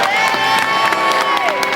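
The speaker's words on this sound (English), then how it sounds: "the cheering and the clapping and the hooting" Casino staff lined up several deep cheer, whoop, hoot and clap as Ivana Trump walks out, a dense, loud, close crowd roar with shrill individual shouts and scattered applause throughout.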